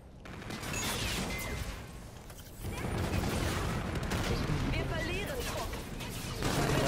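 Rapid gunfire bursts from the video game Call of Duty: Infinite Warfare, dense and continuous with crashing impacts and mechanical clatter, heard loud and close under a player's voice talking over the action.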